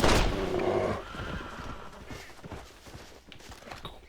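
A horse whinnies loudly at the start of a Red Dead Redemption game scene, followed by softer snorts and faint hoof clops over a low background.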